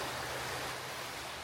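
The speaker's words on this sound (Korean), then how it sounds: "여기 밑에가 지금 강이거든요? 물소리 들리세요?" River water flowing below a path in Tokyo, a steady broadband rushing hiss heard from above, constant and fairly faint with no other sounds.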